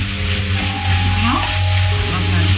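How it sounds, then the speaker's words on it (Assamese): Drumstick leaves frying in a pan give a soft, continuous sizzle close by, running steadily under talking and other kitchen sounds. "মই এয়া সজিনা পাত দি এতিয়া অলপমান ভাজি আছো"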